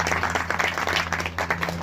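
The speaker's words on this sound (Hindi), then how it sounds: "वैष्णवी के लिए ताली हो जाएगी," An audience at a religious gathering at Shani Dham in Najafgarh breaks into sustained clapping, dense and continuous applause with a faint hum underneath.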